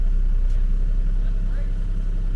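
A Jeep Gladiator idles up close on an off-grid property, its deep, steady engine rumble running continuously at high level. Voices talk over it.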